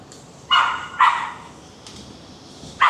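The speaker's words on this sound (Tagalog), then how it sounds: "may clinic dito ng aso. Kaya ang ingay." Three sharp dog barks from a dog clinic in Hong Kong, one at the start, one a half second later and one at the very end, ringing out over a quiet hiss of room noise.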